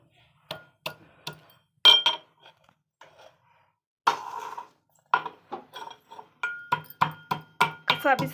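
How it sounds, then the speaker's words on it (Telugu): Ginger pieces pounded in a mortar, heard as a rhythmic run of sharp, close knocks with a slightly metallic clink, some in quick pairs, separated by short pauses and growing denser toward the end. "ముందుగా కొంచెం అల్లం ముక్క వేసి బాగా దంచుకోవాలి"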